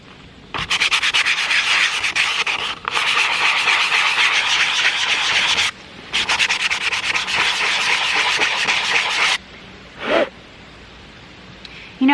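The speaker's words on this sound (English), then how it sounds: "Now let's switch to 150 grit sandpaper." Hand sanding an antique 1920s Stanley No. 104 wooden level with 150 grit sandpaper, loud close rasping strokes in three long sustained runs, then a brief scrape.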